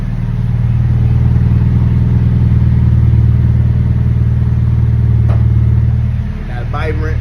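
A Honda Accord with an H22 engine idles steadily after starting, a low, even rumble close by, then eases off near the end as a voice briefly speaks.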